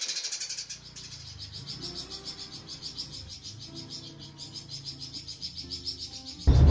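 A Eurasian tree sparrow sings in quick runs of bright, high chirps that repeat steadily over a low background hum, fairly close and clear.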